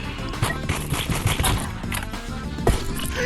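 Shotgun fire in the game Animal Rivals, a rapid scatter of sharp cracking shots in irregular bursts, some overlapping, with a louder blast near the end.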